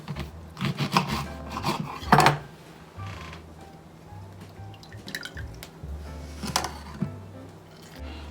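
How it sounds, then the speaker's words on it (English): A fresh lemon is squeezed by hand into honey syrup for baklava, giving close, wet squelches and a few drips and trickles of juice into the pot, spaced out over a quiet background. "we're going to take 1 lemon, and we're going to squeeze that in"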